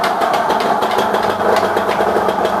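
A two-stroke Thai motorcycle engine runs steadily and loudly close by, with a constant buzzing drone and no pauses.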